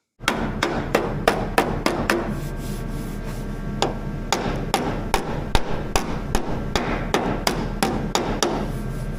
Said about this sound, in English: So let's go ahead and do some strikes on this and see how well this works.